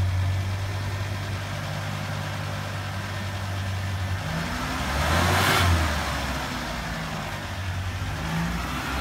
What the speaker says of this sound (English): Go ahead and give it a little gas.